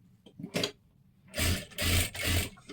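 A sewing machine runs a double line of stitching on a matka neck design, giving one short burst and then three longer whirring runs separated by brief pauses, loud and close.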